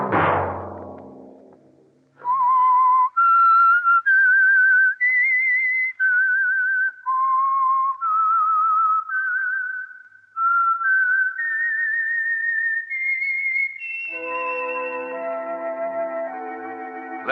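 The whistled theme of The Whistler radio program: a solo, close whistled melody of held and stepping notes, rising and falling, ending on a sustained orchestral chord.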